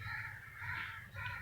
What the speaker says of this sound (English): Amazing communication of the crows.